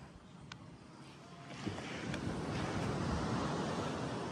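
Sea waves wash onto a beach at a resort in Dingalan, a steady broadband surge that swells louder partway through, with wind buffeting the microphone and no voices.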